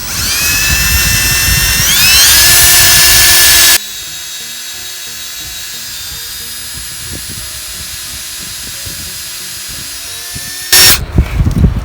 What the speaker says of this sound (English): We'll go ahead and drill a hole.